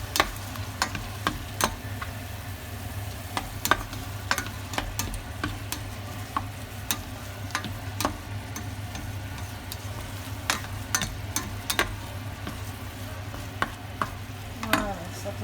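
Food frying in a pan with scattered clicks and scrapes of a utensil stirring it, over a steady low hum of the stove, no voices.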